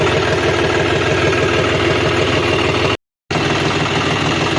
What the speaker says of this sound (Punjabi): ਹੁਣ ਮੈਂ ਕਿਹੜਾ ਦੇ ਕੇ ਟਰੈਕਟਰ ਕੱਢ ਲਾਂ ਬਾਹਰ